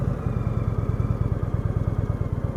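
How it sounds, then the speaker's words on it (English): A 2016 Indian Springfield motorcycle rumbles steadily as it rides around a rotary, with a deep, even, pulsing engine throb that stays close and loud throughout, and no voices. "we're going to take a spin around this thing so you can kind of give you an idea of the turning radius of this bike"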